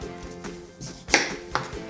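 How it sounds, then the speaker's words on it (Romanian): Knife cutting a pie pumpkin into cubes on a board, a few close, crisp chops and thuds at an uneven pace with soft kitchen background between them. "Vom curăța cu ajutorul cuțitului de coajă, apoi îl vom tăia cubulețe."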